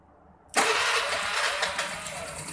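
A Honda Vario 110 motorcycle that had been stalling fires up after a short quiet lead-in, its engine catching abruptly and settling into a steady, close, loud idle with slight unevenness.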